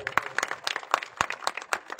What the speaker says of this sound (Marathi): त्यासाठी संदीप दादांसाठी टाळ्या होत्या